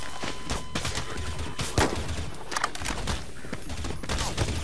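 Video-game gunfire in a Garry's Mod NPC team deathmatch, a dense spread of rapid shots and pops at mid distance, fairly steady throughout with one louder crack near the middle.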